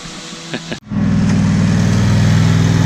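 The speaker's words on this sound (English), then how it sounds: "that new guy is full throttling that weed eater like crazy" String trimmer (weed eater) engine revved to full throttle in a backyard, jumping from quieter sputtering into a loud, sustained, buzzing two-stroke whine that stays steady and close.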